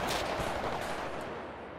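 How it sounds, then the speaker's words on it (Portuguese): Bursts of gunfire in the video game GTA V crack out in the first second, loud and rapid, then fade into a diminishing rumble and echo. "Caralho, tá passando tiro aqui pra caralho, mano."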